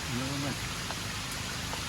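Steady rain falls in a mangrove forest near Bangkok, an even hiss filling the whole stretch, with a brief faint tonal call near the start.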